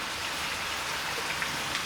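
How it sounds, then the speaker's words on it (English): Sesame oil drizzled into a hot wok while cooking a Cantonese coconut beef curry, a steady, loud sizzle and crackle like rain on a surface, continuous throughout with no talking. "Drizzle some sesame oil."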